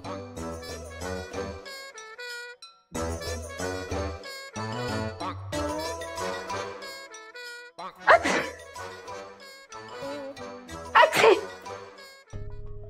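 A woman with a dust allergy sneezes twice, sharp and close, amid background music and light chatter.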